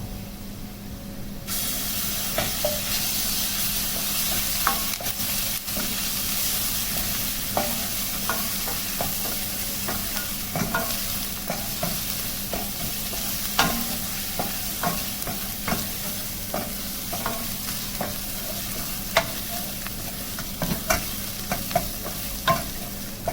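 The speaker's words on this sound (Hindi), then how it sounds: "अब हम इसके अंदर लहसुन अदरक का पेस्ट डालेंगे।" Garlic-ginger paste fries with browned onions in a pan, giving a steady sizzling hiss with repeated scraping stir clicks throughout, close and continuous with no talking.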